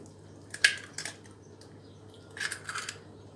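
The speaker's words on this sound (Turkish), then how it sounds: "Bir adet yumurtamı kırıyorum" Egg cracked for a semolina dessert batter in a home kitchen, a sharp crack followed by a couple of soft taps and a wet, crinkly spill a moment later, close and fairly quiet against a faint background hum.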